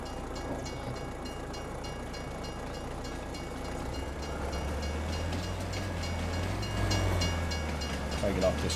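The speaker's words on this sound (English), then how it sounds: "And man, this train is huge." A long freight train rumbles steadily past nearby, with continuous rolling noise and faint clacking growing slightly louder toward the end.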